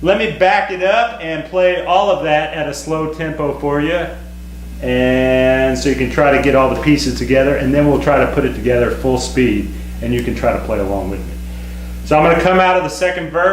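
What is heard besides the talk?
None of the usual background noises is heard.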